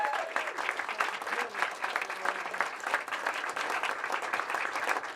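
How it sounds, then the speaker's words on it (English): A crowd applauds the volunteers at a Volunteer of the Year award event, with continuous brisk clapping at moderate distance, steady throughout, and faint voices mixed in. "give a round of applause for all our volunteers"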